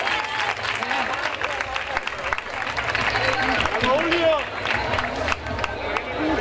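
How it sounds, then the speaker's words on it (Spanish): Sustained applause from a village crowd at a town fair opening speech, dense clapping with some cheering voices mixed in, steady and fairly loud throughout. "Un fuerte aplauso."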